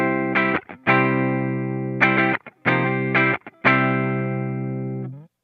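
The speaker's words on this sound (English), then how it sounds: "we're going to get some clean tones out of the amp as our bass line with" Clean electric guitar played dry through a Dr. Z amplifier with no reverb, a few sustained bass-line notes and chords ringing out one after another, each fading before the next, alone.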